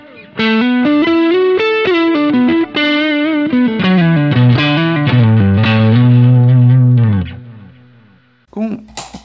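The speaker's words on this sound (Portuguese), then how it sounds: "somando aqui um pouquinho desse reverb e delay com o som de drive" Electric guitar through drive, reverb and delay pedals plays a distorted melodic phrase of sustained notes, loud and close, then a held chord fades into a brief burst of noise at the end.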